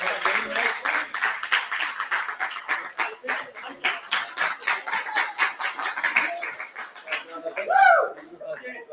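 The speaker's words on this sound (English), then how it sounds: "another big round of applause for the staff here at the Leapark Hotel" Round of applause from the crowd at an annual awards night held at a hotel, dense continuous clapping for about seven seconds that thins out, ending with a brief voice or whoop near the close.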